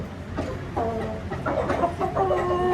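Desi hens in a dirty backyard coop clucking repeatedly, a close run of short, overlapping throaty calls and squawks with no one speaking.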